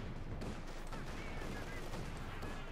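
Artillery and small-arms gunfire from the World War II strategy game Company of Heroes 2, with a Panzer IV's big gun opening up: a dense, continuous clatter of shots and booms, loud and close, with a commentator talking over it.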